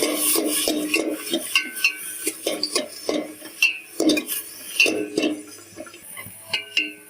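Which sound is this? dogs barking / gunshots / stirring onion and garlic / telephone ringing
stirring onion and garlic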